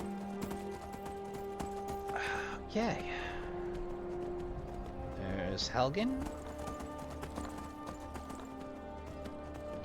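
Horse hooves clip-clopping in the video game Skyrim as the rider travels, a soft continuous trot beneath someone speaking briefly twice.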